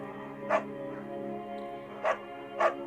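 A beagle barks in the video game Firewatch: three short, sharp barks, the first alone and the last two close together, over a quiet, steady low background hum.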